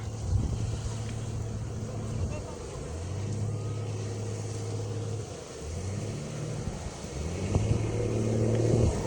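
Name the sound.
motorboat spinning in circles on water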